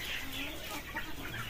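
Local desi hens clucking on a farm, a steady jumble of close, moderately loud clucks and chatter with no talk over them.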